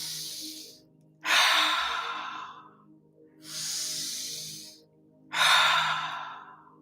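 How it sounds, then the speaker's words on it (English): A person breathes slowly and deeply during a meditation, with two long airy exhales through the mouth, each following a quieter inhale and a pause, alone and close. "take a deep breath through your nose, feeling your chest and belly rise, and exhale long through your mouth"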